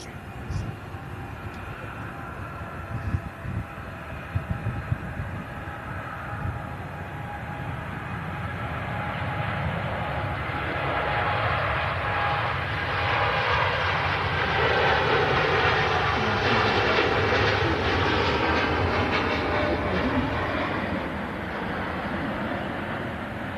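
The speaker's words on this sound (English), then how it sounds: "TUI Dreamliner rolling." A TUI Boeing 787 Dreamliner rolls down the runway for takeoff at Manchester Airport, a broad jet roar that swells steadily and stays loud and sustained, with a voice talking over it early on.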